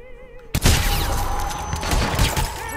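Sniper shots ring out from a window in Hitman Absolution: a sudden loud blast followed by a chaotic, reverberant barrage of gunfire and crashing, close and continuous to the end.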